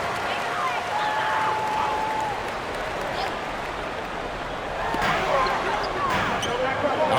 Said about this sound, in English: Let's give them a round of applause for Florida Gators dancers.